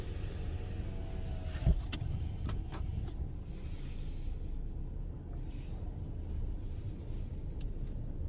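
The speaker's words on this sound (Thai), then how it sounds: "ขับรถไปจุดสามได้เลยนะคะ" Car rolling slowly through a COVID-19 drive-thru testing site, with a continuous low engine and road rumble inside the cabin and a single sharp bump or knock early on.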